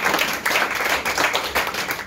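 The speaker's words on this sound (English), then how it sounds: "Y'all give Chase a round of applause." Dense applause from an audience at a sales meeting, celebrating a new team member, sustained and fairly loud throughout.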